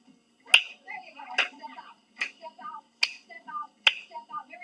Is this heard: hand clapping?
yes